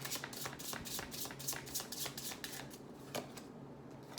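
A deck of tarot cards being shuffled close by in a rapid series of crisp riffling bursts, fading out near the end.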